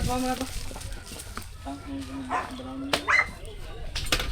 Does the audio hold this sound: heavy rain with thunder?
no